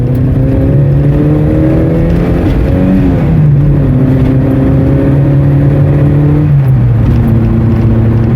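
A 1980 Volkswagen Scirocco GLS MK1 drives and accelerates on a bumpy road. Its engine drone rises steadily, then dips at two gear changes, heard loud and close from inside.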